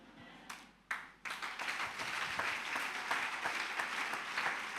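A church congregation breaks into applause, starting with a few scattered claps and building into steady, lively clapping from a crowd in a reverberant hall.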